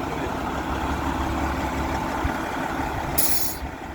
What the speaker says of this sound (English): Top loader. Kind of little forklift.